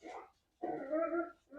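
Dogs give two short, close growling barks, with a brief pause between them.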